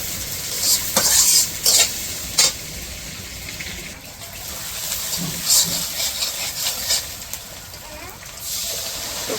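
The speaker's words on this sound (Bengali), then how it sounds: "তো পেঁয়াজ ভাজা হয়ে গেছে" Chopped onions sizzle in oil in a pan for village-style chicken, stirred in sharp scraping bursts over a constant hiss, with no voices.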